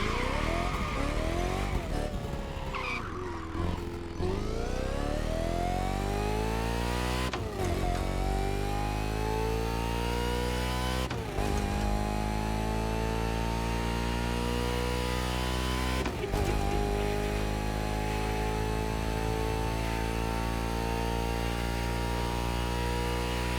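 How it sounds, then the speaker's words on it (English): A swapped engine in a car in The Crew Motorfest, revving hard and climbing through gears with a few abrupt shift breaks, loud, harmonically rich and continuous, with tire screeches mixed in. "That might be the best engine sound in the entire roster."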